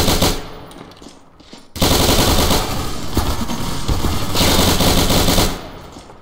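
Sustained automatic gunfire in the sandbox game Garry's Mod, loud and close, firing in long continuous bursts with a short pause near the start and no talking.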